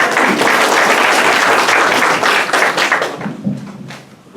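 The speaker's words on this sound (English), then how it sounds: "Give yourselves a clap." An audience at a candidates' night meeting applauds, steady dense clapping filling the room for several seconds before tapering off near the end.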